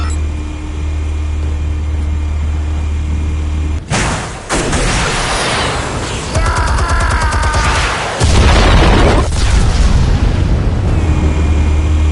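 Explosives detonating in Batman: The Telltale Series: a loud blast hits after a steady low hum, then crackling debris and a rattling, warbling tail, followed by a second heavy boom that leaves the low rumble behind.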